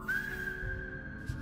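A person whistles a long, steady single tone as a way of speaking, as in a whistled language, sustained clearly for over a second with a faint low rumble beneath.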